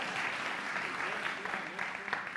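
A church congregation applauds a young woman during a Sunday morning service, a steady, dense wash of clapping from many hands that fills the room, with some voices mixed in.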